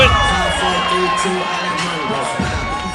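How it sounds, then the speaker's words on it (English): The crowd at a boxing match at the Fantasy Springs Resort Casino cheers and applauds, a loud, continuous arena roar of voices and clapping with whoops rising over it. "A nice applause from the crowd here at the Fantasy Springs Resort Casino."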